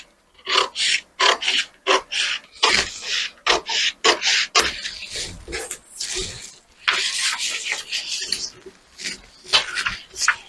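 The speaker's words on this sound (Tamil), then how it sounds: "பேக் பார்ட்டை இப்போ கட் பண்ணி எடுத்துருவோம்." Scissors snip through blouse fabric while the back piece is cut out, making repeated short rasping, rubbing crunches in uneven bursts close to the listener.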